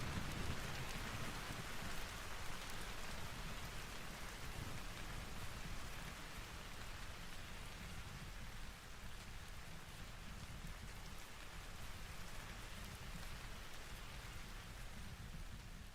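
Steady, dense rain hiss fills the Vintage Story game scene, a constant wash of falling drops with a low rumbling undertone throughout and no talking.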